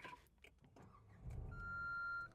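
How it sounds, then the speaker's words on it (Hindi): A 2026 Renault Triber's three-cylinder engine starts from inside the cabin, catching with a low rumble that settles into a steady idle while a thin electronic chime tone sounds above it. "लो जी गाड़ी स्टार्ट होगी। अंदर आपको आवाज़ थोड़ी सी आएगी, रीज़न 3 सिलेंडर है"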